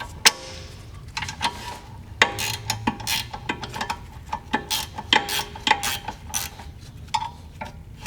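Ratchet loosening a brake caliper bolt on a 2012-2018 MK6 VW GLI, with the slide pin counter-held by needle-nose vise grips, giving sharp metallic clicks and clacks in uneven bursts, close up with no talking.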